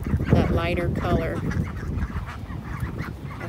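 Ducks kept together with chickens let out a couple of loud, close honking quacks. Softer fowl noises and a little talking follow.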